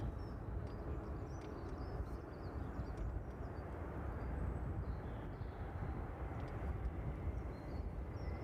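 A TUI Boeing 787 taxis toward runway 27 at East Midlands Airport, heard as a faint, steady, distant engine rumble that holds even throughout with no sharp changes.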